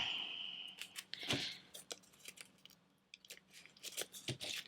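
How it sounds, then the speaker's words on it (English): Several quick, crisp snips of scissors cutting thread, close by, with small rustles of fabric between cuts. "To cut that stitch there."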